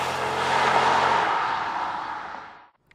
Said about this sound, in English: You can't feel a transmission shift, but you can hear the V8 noise.